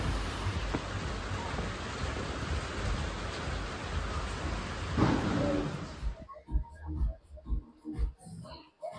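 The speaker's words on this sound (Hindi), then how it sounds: "बारिश नहीं रुक रही यार, बारिश नहीं रुक रही" Heavy rain pours steadily at a covered balcony in Old Manali, Himachal, a dense close hiss for about six seconds before it drops away into quieter, scattered thumps and handling noise.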